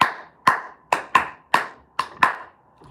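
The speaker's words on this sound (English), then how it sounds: "I just clap my hands like a whole tenor in the choir" One person claps their hands seven times in an uneven rhythm, each sharp, close slap ringing briefly before the next, ending with a softer final touch.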